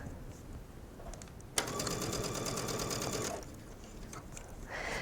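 A sewing machine runs in a short burst of about two seconds while stitching an elastic hem on a mesh sleeve, set against quiet handling noise and faint room sound before and after.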